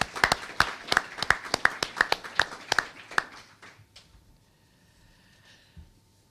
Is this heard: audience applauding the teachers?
yes